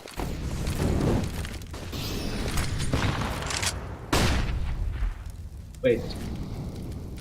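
In a competitive shooter match, gunfire and a grenade blast crack out over continuous casting talk, with sharp loud bursts at intervals and one distinct pop near the end.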